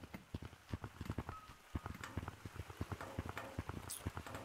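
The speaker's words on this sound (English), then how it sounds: "so we got a little cloud that rains on me" A small cosmetic rain cloud in Gorilla Tag patters steadily with soft, quick drops falling at an even rhythm, faint and close, with no voices.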